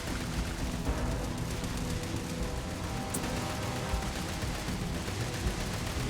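Steady sci-fi gunfire from the video game Starfield, a continuous dense rattle at moderate level with no clear breaks.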